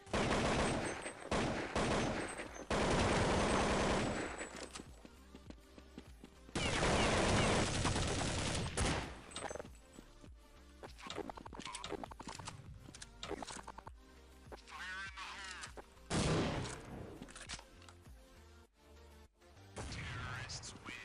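Bursts of gunfire in Counter-Strike 1.6, loud rapid volleys and single shots clustered at intervals, with someone talking over and between the shots.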